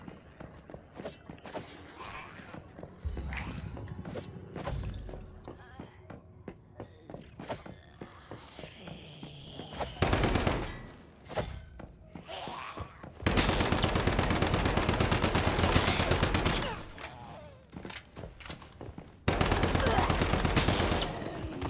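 Bursts of automatic gunfire in the survival shooter Once Human, with footsteps and scattered shots early on, then loud sustained volleys around 10, 13–17 and 19–22 seconds, close and dominant.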